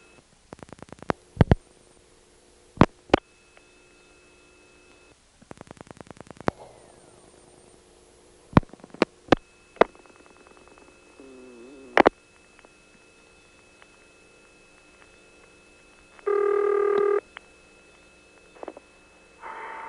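A 1976 step-by-step telephone switch in Harrisonburg, Virginia clicks and clatters through a series of sharp mechanical switching bursts and buzzes while hunting to connect to intercept, with a steady tone running underneath and brief electronic chirps.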